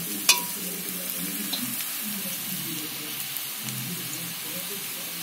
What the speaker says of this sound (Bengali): রসুন বাটাটা দিয়ে 5-7 মিনিট ভালো করে ভেজে নিতে হবে